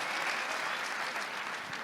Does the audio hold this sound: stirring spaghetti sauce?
no